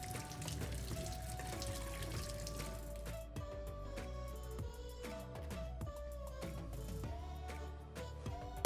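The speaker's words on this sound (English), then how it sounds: "I'm going to wash the eggs." Eggs are rinsed under a running kitchen tap while making a Uyghur walnut raisin cake, with a steady splashing stream of water into a sink and occasional clinks over a continuous hiss.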